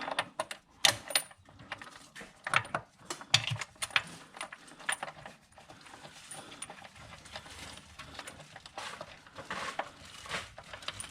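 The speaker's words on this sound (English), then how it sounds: "before I start bolting things up, I'm going to bolt the thing down" A new engine being bolted down into a Chevrolet Suburban: irregular metallic clicks, ratchet turns and tool clinks, close and fairly quiet, in uneven bursts with short gaps.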